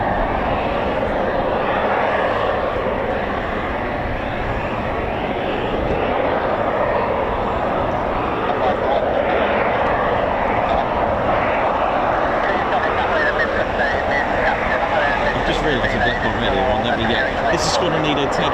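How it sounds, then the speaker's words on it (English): Eurofighter Typhoon FGR4 jets starting up their EJ200 engines at an RAF airfield, a steady rising turbine whine and roar that holds continuously, with a voice talking over it. "Should be starting up their EJ200 engines very shortly."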